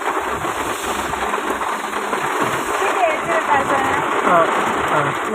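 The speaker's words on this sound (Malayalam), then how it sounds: "മഴയല്ലേ?" Steady patter of rain on a vehicle with a low engine hum beneath, continuous and fairly close.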